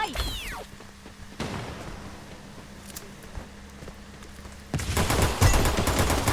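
Pistol shots in the mobile battle royale game Free Fire, several sharp cracks spread across the clip, mixed with footsteps and in-game movement, then a louder burst of action near the end.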